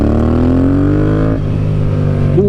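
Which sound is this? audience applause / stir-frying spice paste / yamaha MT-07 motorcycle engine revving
yamaha MT-07 motorcycle engine revving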